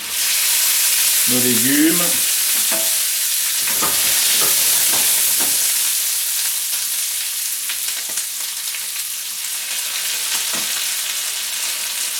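Vegetables and artichokes fry loudly in butter in a hot pan, a dense continuous sizzle with stirring scrapes, close up; someone speaks briefly over it near the start.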